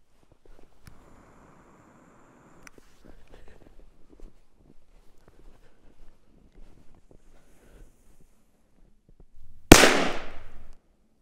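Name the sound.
Titan Blitz 4 gram firecracker exploding in snow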